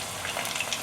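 Shrimp frying in hot oil give a steady, dense sizzle and crackle of bubbling, continuous and close, with no talking.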